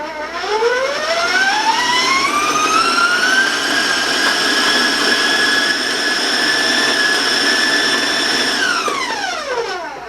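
An electric stand mixer beats shortbread cookie dough at high speed, a loud, sustained whine that ramps up in pitch, holds steady for several seconds, then winds down at the end.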